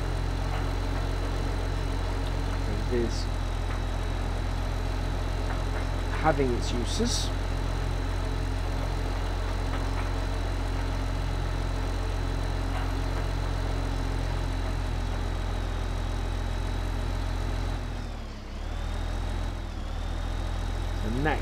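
A tractor engine idles in the video game Farming Simulator 15, a steady low drone with a few small mechanical clicks and a brief dip near the end, running under someone talking throughout.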